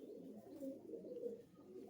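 Giribaz flying pigeons coo in low, continuous burbling rolls, faint and steady over about two seconds with no talk.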